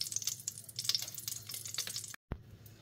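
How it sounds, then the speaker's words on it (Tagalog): Beef sautéing in garlic-infused oil in a pan gives a close, busy crackling sizzle with popping spatter, continuous until a brief cutout near the end, then a single clack before the frying resumes. "lalagay ko ulit yung oil ng garlic at magigisa na tayo ng ating beef"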